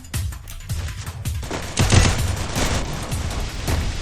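Rapid bursts of automatic gunfire ring out in a Free Fire mobile battle-royale match, loud and dense with overlapping shots and booming reports for several seconds, with no talking.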